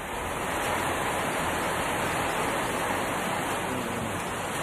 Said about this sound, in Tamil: அரியலூர், கீழப்பழுவூர், திருமானூர், தாமரைக்குளம், செந்துறை பகுதிகளில் 1 மணி நேரத்திற்கு மேல் கனமழை பெய்தது.